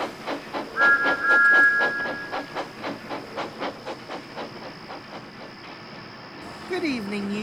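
A steam train engine pulls in with rhythmic chuffs and hissing that slow and fade, followed by a short whistle-like squeal, in a Thomas the Tank Engine story setting.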